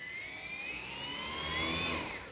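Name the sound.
HobbyZone Carbon Cub S 2 RC plane motor throttling up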